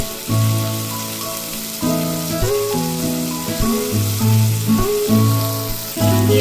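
Pumpkin pieces fry in oil with cumin in a pan, giving a soft, steady sizzle that swells and eases, while melodic music plays prominently alongside.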